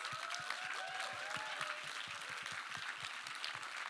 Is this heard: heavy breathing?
no